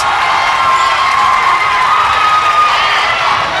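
Home crowd cheering at a high school basketball game, Kennedy Eagles gym, a loud steady wall of voices and shouts holding without pause throughout.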